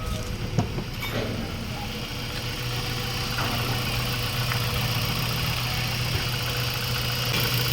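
A Mazda 3 with the 1.6 engine, repaired after a compression fault in cylinders 2 and 3, idles with a steady low hum and a constant drone. Broadband background noise runs underneath, and a voice speaks briefly.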